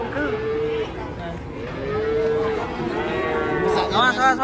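Sacrificial cattle for Eid al-Adha mooing nearby, a few long low calls in succession, the last one rising and louder at the end.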